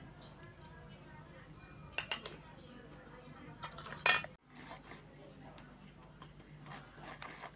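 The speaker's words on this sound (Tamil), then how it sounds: "பவுட்ரு சுகரையும் ஜலிச்சு எடுத்துக்கலாம்." Powdered sugar is sifted through a sieve while baking a custard fruit cake, with a steady, soft metallic rattling and tapping. The rattling swells into a brief louder burst midway, then settles back to a quiet, continuous shake.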